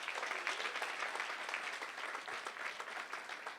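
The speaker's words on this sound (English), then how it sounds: "Give her another round of applause." A university sports gala awards ceremony audience claps steadily in a sustained, even round of applause, somewhat faint and distant, with no talking.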